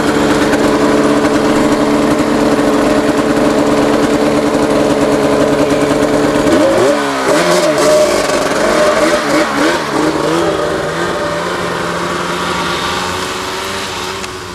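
A 2011 Arctic Cat Crossfire 800 snowmobile engine roars loudly and steadily up close, holding a high rev before the pitch wavers and dips midway, then settles into a sustained drone that gradually eases off toward the end.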